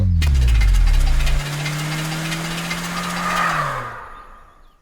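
A car engine in a Hindi-dubbed Telugu action film sputters as it breaks down, a loud low rumble with knocking and a falling hum that fades and dies out after a few seconds.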